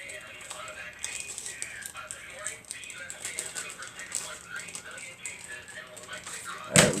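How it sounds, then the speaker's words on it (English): Scissors snip through fabric appliqué pieces in a run of quick, close, crisp cuts, with a louder clack near the end; talk is heard in the background. "Alright, so we're going to cut this out."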